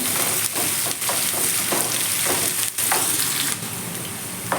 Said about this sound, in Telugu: ఇది కాస్త ఫ్రై అవ్వలేదా ఎందుకంటే ఏదైనా మనం చేసేటప్పుడు కొంచెం ఫ్రై అయినా అనుకోండి టేస్ట్ అయితే బాగుంటుంది